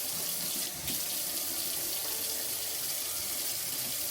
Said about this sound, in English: I'm about to clean the sink, wipe the sink down, and fill it up with water.